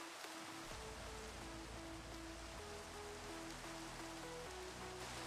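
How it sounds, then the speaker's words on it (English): Steady rain hisses across the whole stretch in a Minecraft world, a broad even wash with faint tonal game music notes drifting underneath; no voices. "It must be raining in Minecraft."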